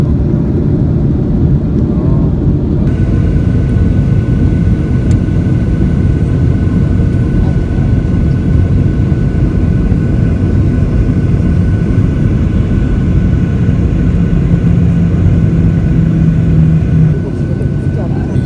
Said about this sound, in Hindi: और ये हमारा रनवे के ऊपर जहाज़ है।